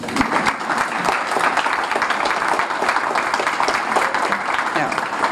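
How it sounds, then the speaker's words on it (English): Sustained applause from an audience at a public art mosaic dedication ceremony in Blue Spring, a steady dense clatter of many hands, close and loud throughout. "let's give a big applause for everybody."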